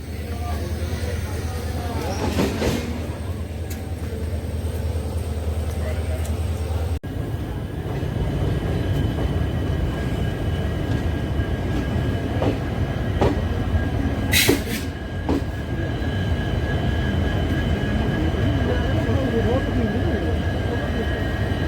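The Amaravati Express rolls along the Konkan Railway near Castle Rock, a steady rumbling clatter of carriage and wheels heard from inside the train, with a brief sharp squeal or clank partway through.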